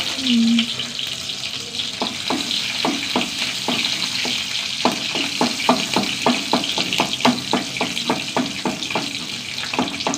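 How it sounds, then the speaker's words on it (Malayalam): Garlic cloves sizzle and fry in a pan with cumin and dried red chillies, a steady close crackle. Through it runs a regular series of clinking stirs against the pan, and no talk is heard. "വെളുത്തുള്ളി മൊരിയണോ? നന്നായി ആവണം."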